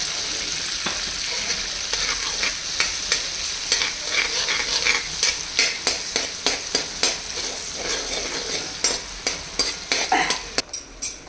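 Sliced onion sautés in a buttery pan with garlic paste, a steady close sizzle broken by quick rhythmic spoon scrapes and taps that grow sharper toward the end, with no voices.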